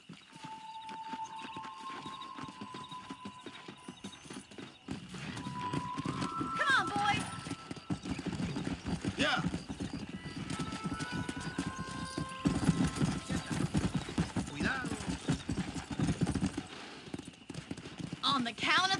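Horse hooves gallop in a steady, rapid clip-clop through a Red Dead Redemption ride, with an occasional whinny and game music, while voices talk over the pounding hoofbeats.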